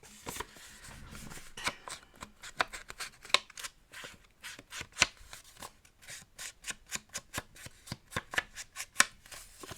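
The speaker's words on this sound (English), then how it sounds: "Sanding the edges is a very" Rapid, rhythmic scraping strokes rasp near the microphone in quick bursts as the edges of paper are sanded, with no talking.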